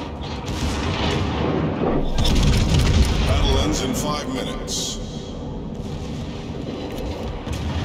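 Explosions and heavy naval gunfire boom continuously as an enemy destroyer is blown up in World of Warships, the battleship Prinz Heinrich firing nearby, with a game voice talking over the loud rumbling blasts.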